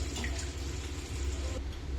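Tamarind extract pours into a fish curry in a steady, close liquid splash for about a second and a half before stopping.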